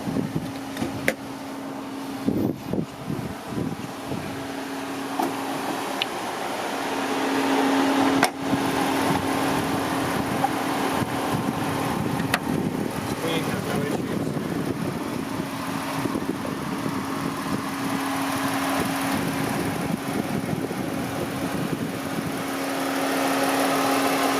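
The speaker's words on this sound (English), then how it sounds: "I'm going to pop the engine and show you the engine running." Engine of a 2017 Ram Promaster camper van running at idle: a steady, even drone with a low hum, heard close with the hood open, starting with a few clunks and rising slightly partway through.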